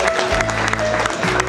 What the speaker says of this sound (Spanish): a ver el aplauso